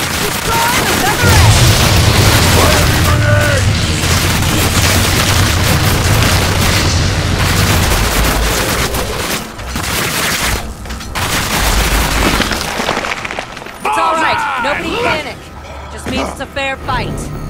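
Gunfire and explosions pound away as eggs are destroyed in the video game Evolve, with dense booming blasts and rapid fusillades that ease off and return in bursts, loud and close.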